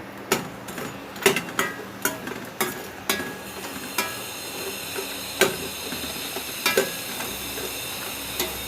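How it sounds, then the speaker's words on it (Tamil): Bread slices shallow frying in a little ghee give a soft steady sizzle, with repeated sharp clicks and taps of a utensil against the pan over it, close and moderately loud, no voices. "கொஞ்சமாக கீ மட்டும் விட்டு ஷாலோ ஃப்ரை பண்ணி எடுத்துக்கிறேன்"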